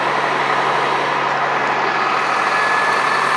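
Detroit fire trucks pulling out after a job, a steady broadband diesel engine rumble and hiss filling the whole stretch with no breaks or distinct events.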